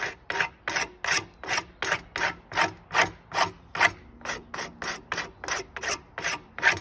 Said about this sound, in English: See that fiddleback, it's just so hard to work. But, that's a pretty good rasp,